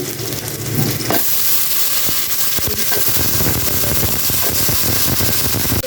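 Potatoes fry in a hot pan, a dense loud sizzle with clattering scrapes and knocks of stirring throughout, the sizzle surging stronger after the first second.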